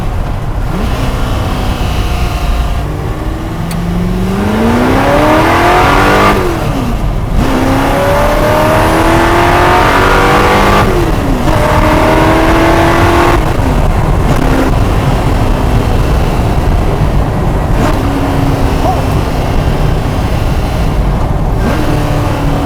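A loud Ford GT40 race car engine revs hard through rising gears, each climb cut by a shift, roaring close and continuous.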